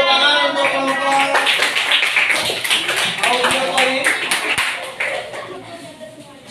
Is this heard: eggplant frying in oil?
no